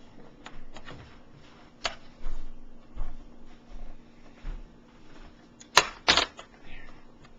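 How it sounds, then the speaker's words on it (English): Kitchen scissors snip apart fresh ravioli made on a KitchenAid, giving a series of soft close clicks and cuts spread irregularly, with two sharper snips near the end. "you can either clip them apart with scissors"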